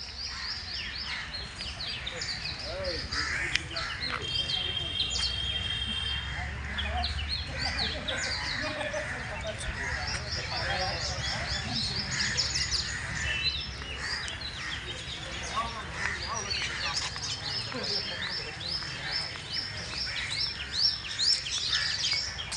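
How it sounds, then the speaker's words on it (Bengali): Birds call outdoors in a grassy spot near a college, thin chirps and tweets over a constant hissing background, with a voice speaking through much of it. "চারিদিকে পাখিদের ডাক"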